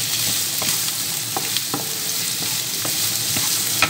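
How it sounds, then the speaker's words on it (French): Chopped onion sautés in a very hot pan, a steady bright sizzle with occasional soft stirring taps, close and continuous, no talk. "Voilà, donc la poêle elle est bien chaude. Voilà, on fait revenir l'oignon."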